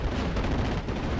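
An HS-129 ground-attack aircraft firing on a tank in the Steel Division: Normandy 44 game, a dense rattling barrage of rapid gunfire and blasts, loud and continuous.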